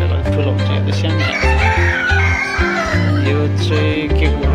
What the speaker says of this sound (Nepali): बर्माको कुखुरा रहेछ है यो चाहिँ